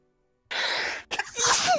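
A loud, close sneeze in two parts: a breathy intake rush, a brief gap, then a sharp explosive burst.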